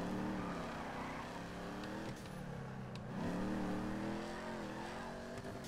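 A Vapid Hotknife hot rod engine accelerating in GTA 5, revving up in rising pitch, easing off briefly, then climbing again, close and steady with no talk.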